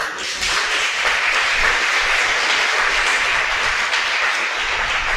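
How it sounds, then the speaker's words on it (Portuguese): A church congregation applauds in praise during a worship service, a dense, steady wash of many hands clapping that holds at an even, fairly loud level for the whole stretch. "Com as mãos lá no alto, aplaudam o Senhor."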